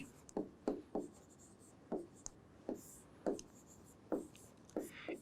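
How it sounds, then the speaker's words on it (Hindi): Pen strokes writing the letters CSR by hand on paper, about a dozen short scratchy marks in an uneven rhythm, close and quiet with no speech. "तो यहाँ से मैं CSR लिख रहा हूँ"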